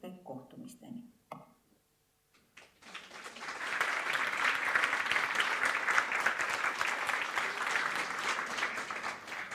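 After a few seconds of speech and a brief pause, a hall full of people at a vocational school graduation ceremony breaks into sustained, even clapping that carries on steadily to the end.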